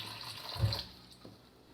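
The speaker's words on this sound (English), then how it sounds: "I'm just gonna get just enough water to cover the bands" Water running from a tap into a canning pot to cover the jar bands while canning blueberry jam, a short quiet splashing gush that swells and then fades out.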